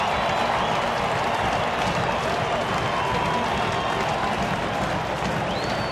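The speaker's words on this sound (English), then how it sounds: "standing ovation out of the crowd on this one" A baseball crowd in a stadium gives a standing ovation, a sustained, dense wash of applause and cheering that holds at an even level throughout.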